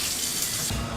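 Tap water runs steadily into a pan in a kitchen, a continuous close hiss and splash that shifts slightly in tone partway through, with no talking.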